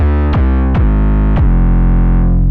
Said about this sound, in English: I don't really like these real synthy basses